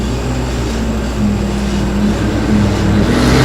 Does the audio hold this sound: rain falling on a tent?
no